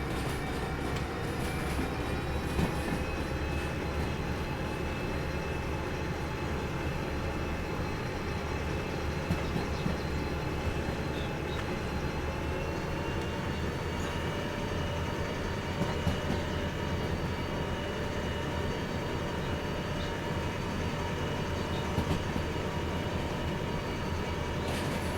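A DE6 diesel locomotive runs in the train simulator game Derail Valley. A continuous low engine drone and rolling rumble carry on steadily for the whole stretch, with a faint rising whine and no talking.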